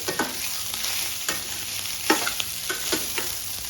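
Pepper egg rice stirred and frying in a pan, a steady soft sizzle broken by several distinct scraping stirs of the spatula, close and clear with no voices.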